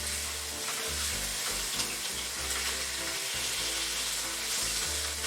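Honey garlic pork chops sizzle steadily in a hot pan, a dense continuous frying hiss with low rumbling underneath, close and fairly loud with no talking.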